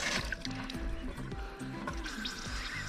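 Water running from a tap at a horse stable, a steady splashing flow close by with clanking and rattling over it.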